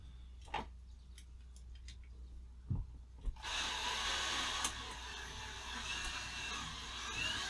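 A power drill starts up midway and runs steadily, loud and close, drilling a hole for a shower curtain bracket in an RV ceiling, after a few quiet clicks and taps.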